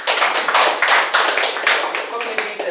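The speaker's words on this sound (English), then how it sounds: "let's give an applause for Ali and Aruzi." An audience at a socioeconomic development workshop applauds a team: a loud, close run of uneven hand claps in bursts, with voices talking over the clapping.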